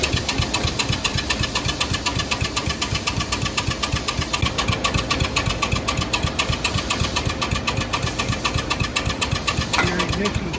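A Cub Cadet lawn tractor engine runs steadily up close after its fuel is turned back on, a loud, even, rapid chugging throb with a faint high whine throughout.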